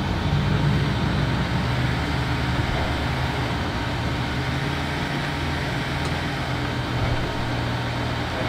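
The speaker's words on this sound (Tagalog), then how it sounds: "So medyo maingay-ingay yung bus na to, no, mga Saisnueve, kung maririnig nyo, no?" A noisy bus drives along in a GTA 5 game, its engine a low, steady rumble that stays constant throughout with no talking.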